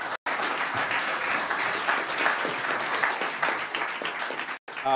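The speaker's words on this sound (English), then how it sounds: "give them a nice round of applause for their support" Steady, dense applause from an audience at a school board meeting fills the room, continuous for several seconds with a brief cut near the start and end.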